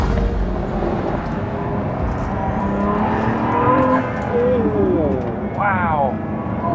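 A Pagani Utopia supercar engine roars up close in sport mode with the exhaust open, its pitch climbing as the car accelerates hard, with a loud exhaust rumble.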